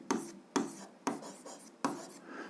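A pen writes on paper during a seventh-grade physics problem on altitude and air pressure: four quick scratchy strokes, evenly spaced about half a second apart, close and dry, with no talking.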